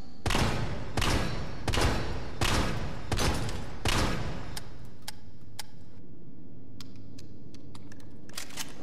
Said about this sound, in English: now let's try it with the shell holder and semi-auto barrel attached